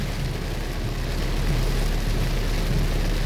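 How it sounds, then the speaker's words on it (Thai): Heavy rain pours down during a trip home, a dense steady hiss of falling water that stays even and moderately loud throughout with no other sounds standing out. "โอ้โหฝนตกอย่างแรง"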